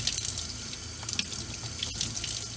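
Tap water running steadily into a sink while something is rinsed after brushing broccoli bits away, a continuous close splashing hiss.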